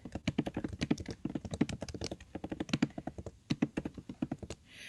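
Rapid, irregular clicking of computer keyboard keys as a message is typed into a chat, close and clear with short pauses between bursts, no talking.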